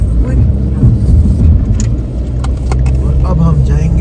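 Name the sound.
car engine driving uphill in four-wheel drive toward Ghar e Hira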